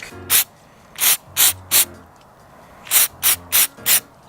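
Short hissing bursts of an aerosol spray can, sprayed in quick puffs on an Infiniti G35: three in a cluster, a pause, then four more, close and loud.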